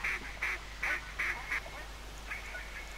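Gadwall ducks in the video game theHunter give a short run of nasal quacks in repeated bursts, steady and moderately close over a constant low background hum.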